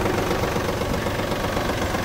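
A tractor fitted with a grader blade for snow clearing idles nearby, its engine giving a steady, dense rumble with fine rapid knocking throughout and no voices.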